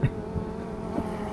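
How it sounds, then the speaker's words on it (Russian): A steady, low droning buzz hangs overhead throughout, like a small drone hovering nearby, with no talking. "здесь сейчас летает дрон и, видимо, снимает меня."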